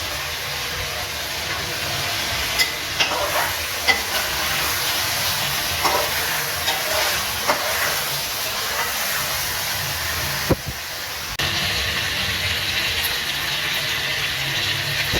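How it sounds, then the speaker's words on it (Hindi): Chicken pieces frying in a pan with garlic paste for a dahi chicken, a steady loud sizzle with occasional clicks and scrapes of stirring, no voices. "अब हम इसको अच्छे से फ्राई करेंगे।"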